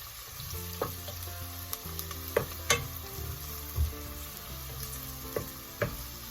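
Garlic and other ingredients for Cuban ropa vieja fry quietly in a pan with a soft continuous sizzle, punctuated by several sharp clicks and scrapes of a utensil stirring them.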